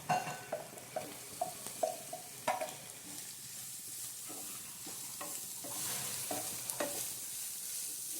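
Spices or mushrooms frying in a pan for a Kerala-style roasted coconut mushroom curry, with steady sizzling under repeated clinks and scrapes of a spoon stirring against the pan, close and fairly loud.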